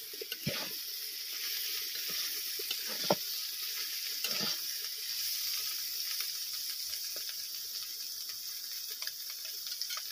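Sliced bitter gourd (karela) with potato frying in a pan, a soft continuous sizzle with occasional scrapes of a spatula stirring it, fairly quiet and steady.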